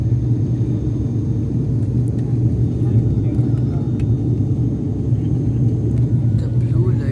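Loud, steady low drone fills the cabin of a turboprop aircraft climbing toward cruising altitude on a night flight. The engine roar stays constant throughout, and a voice may be talking over it.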